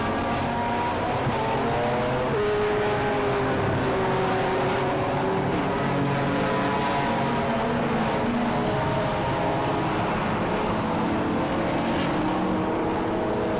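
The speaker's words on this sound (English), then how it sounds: "listen to the incredible sound of these beautiful cars" Race cars at Silverstone roar past continuously, several engines layered with rising and falling pitch as they accelerate and pass, loud and close with no talk.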